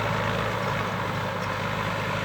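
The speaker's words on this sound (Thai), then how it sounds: "แต่เสียงนี่แหละครับรถไถหน้าฟอร์ด เสียงหวานดีครับ" A Ford 6610 farm tractor, working a field to prepare soil for planting cassava, runs with a steady, close, even engine drone that holds unchanged throughout, with no voices.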